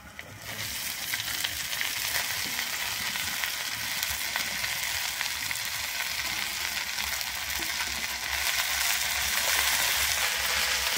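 Chopped red amaranth greens hit hot oil with lightly fried onions, giving a steady, dense sizzle that runs unbroken and grows slightly louder near the end, with no talk.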